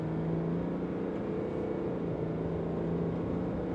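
A Chevrolet Colorado ZR2 pickup with the 3.0 Duramax diesel pulls at full throttle on the Bonneville Salt Flats, giving a steady, droning engine hum with a low tone under constant wind and road noise.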